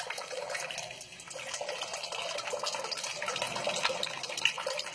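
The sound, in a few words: stream of water pouring from a vessel until it empties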